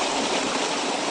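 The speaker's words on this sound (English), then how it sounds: "rises again as raw sewage being poured out of that drain" Raw sewage gushes out of a drain into the Jordan River as a loud, steady, continuous rush of pouring water, close by and with no voices heard over it.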